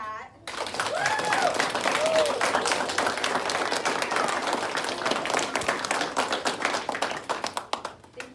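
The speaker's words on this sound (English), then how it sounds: "Let's do a bigger round of applause than that." Sustained applause from parents and students at an upper-grades school awards assembly, dense steady clapping that fills the room for about eight seconds, with a voice briefly heard early on before the clapping tapers off at the end.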